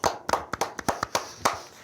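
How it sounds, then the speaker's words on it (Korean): A short burst of applause at a Korean political broadcast, hands clapping in a quick, uneven rhythm of about a dozen distinct claps, fairly close and moderately loud. "박수 한번 보내줍시다."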